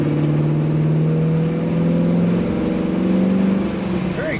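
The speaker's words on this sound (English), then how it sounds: "Very good acceleration. A strong run in Chevrolet." 1968 Chevrolet C10 Stepside pickup truck accelerating on the highway, a loud, continuous engine drone with rising tone heard from inside the cab, road rumble underneath and a faint whistle near the end.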